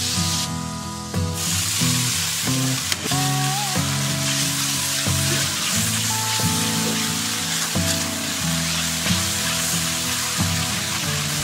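Minced garlic and chopped small chili peppers fry in hot oil in a wok, giving a steady, close sizzle and spitting hiss that carries on continuously throughout, with no talking.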